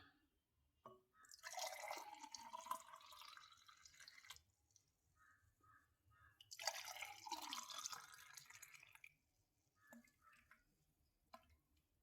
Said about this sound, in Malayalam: ഗ്ലാസ്സിലോട്ട് ഒഴിച്ചു കൊടുക്കാം